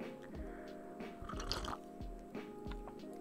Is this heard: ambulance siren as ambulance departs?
no